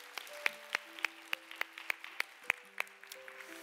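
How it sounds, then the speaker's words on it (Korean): Light, sparse clapping from a church congregation at a youth worship service, about a dozen separate claps over a few seconds, scattered and fairly close, with faint tonal hum underneath and no talk. "광고를 만들어주신 영상팀에게 한번 격려의 박수 한번 보내겠습니다"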